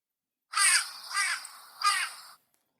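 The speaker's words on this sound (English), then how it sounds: "Crow." A crow gives three harsh caws in quick succession, loud and close against a silent background.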